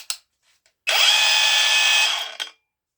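A DeWalt DCG405 cordless angle grinder spins up at its lowest speed setting, a steady whine lasting about a second and a half before winding down, with brief clicks just before and after.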